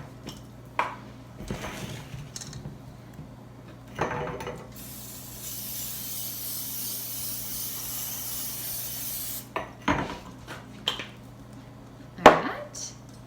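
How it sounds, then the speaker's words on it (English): Coconut oil cooking spray misting onto mini muffin tins: a continuous hiss lasting about five seconds, with light metallic clinks and handling knocks from the tins before and after. "just gonna spray it down with a little coconut oil"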